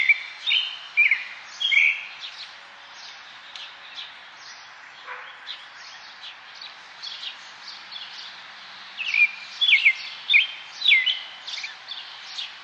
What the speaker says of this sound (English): Do you ever just sit outside and listen to birds?